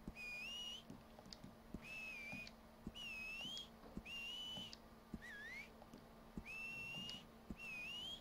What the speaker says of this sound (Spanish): Silbido.